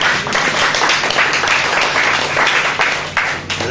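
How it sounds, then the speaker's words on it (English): Crowd applause for an ice hockey player after a match, a loud dense burst of clapping filling the room, holding steady before easing slightly at the end. "So we'll round of applause for Sylvan there."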